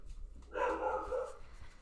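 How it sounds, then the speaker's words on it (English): Household dogs barking at a passer-by walking a dog: a short burst of a few barks and yips, a little distant, rising after a quiet start and then fading. "Sorry about the dogs."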